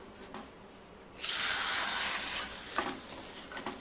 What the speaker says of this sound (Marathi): आता ही फोडणी आपण या डाळीवरती टाकून घेऊया